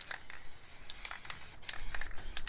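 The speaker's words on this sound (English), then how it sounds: "Just spray a bit of light around your lid stencils." Short hissing bursts from an MTN 94 spray paint can, several quick sprays in an uneven rhythm laid lightly around stencils for a galaxy painting, close by but fairly quiet.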